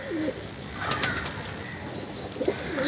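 Pigeons coo softly and continuously in a home loft, low murmuring calls layered over a steady background with a few louder bursts.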